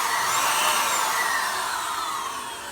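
A Hoover stick vacuum cleaner runs close by with a steady, loud whirring motor whine that holds for a few seconds and eases off slightly at the end, with no voices.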